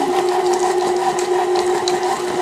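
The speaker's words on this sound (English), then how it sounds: "And then we're going to slowly mix that in." An electric stand mixer runs slowly through cookie dough for cherry chocolate chip oatmeal cookies, a steady motor hum with a whirring tone, close and continuous, with no talk.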